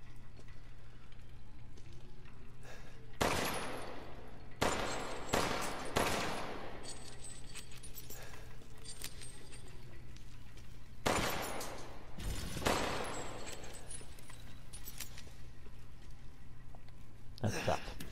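Bursts of gunfire from a weapon in the horror video game Resident Evil Village, several separate volleys of rapid shots spread across a quiet, droning background, with a faint voice now and then.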